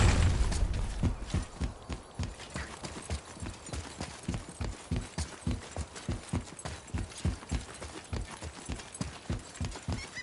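Horse hooves clip-clop in a steady, even trotting rhythm in the God of War video game, moderately loud and close, with a louder burst at the start.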